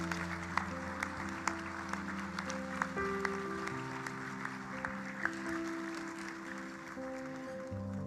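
Congregation applauding in a church after a baptism, a steady wash of clapping held for several seconds over sustained organ or keyboard chords.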